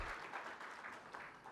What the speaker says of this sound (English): Isn't it important that you clap for them?